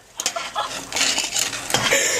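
A metal spoon clatters and clinks against dishes a few times in quick succession, close by, with faint background voices.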